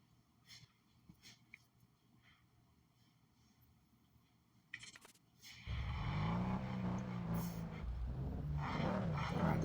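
In the NFS No Limits racing game, a car engine sits at a low murmur before suddenly roaring into a loud, sustained rev at the race start, its pitch climbing as it accelerates.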